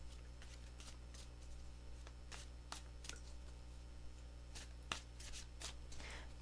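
Tarot cards are shuffled by hand in a quiet room, a series of soft crisp riffling bursts in irregular rhythm over a faint low hum, close and gentle.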